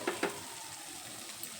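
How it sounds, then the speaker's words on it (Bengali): Masala spice paste fries in a pan for bitter gourd curry, giving a soft continuous sizzle with a couple of brief scraping stirs near the start; no talking. "এইভাবে 10 মিনিটের মতো আমি মশলাটা খুব ভালোভাবে কষিয়ে নিয়েছি।"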